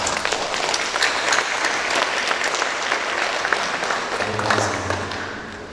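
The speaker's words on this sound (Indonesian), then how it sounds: "Jadi berikan aplaus untuk tangan kita." Audience applause at the opening ceremony of SERASI 2022, a steady wash of many hands clapping for several seconds with a faint low hum near the end.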